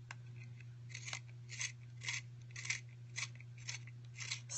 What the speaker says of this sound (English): So let's take our Stabilo pencil. Let's actually sharpen it a bit so we have a nice point on it.